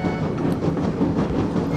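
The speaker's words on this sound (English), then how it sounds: "said Henry as he puffed out of the station." Train sound for a storybook adaptation of Henry puffing out of a station, a loud steady rumble with a rhythmic chugging, close and continuous with no voices.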